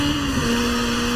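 Peugeot 207 Super 2000 rally car with a 2000 cc engine in Forza Horizon 4, holding a steady, loud engine drone with a constant pitch throughout, with no speech.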